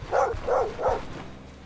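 Dogs in the video game Stoneshard bark three times in quick succession, close and fairly loud, with no speech.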